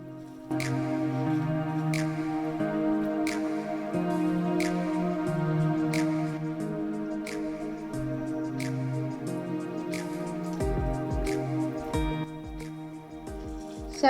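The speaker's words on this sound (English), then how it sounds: "we take small portions of cabbage and squeeze it out as much water as possible by pressing it with our hands" Salted cabbage is squeezed by hand for sauerkraut, giving soft wet squishes and drips at an irregular pace, close up, over steady background music.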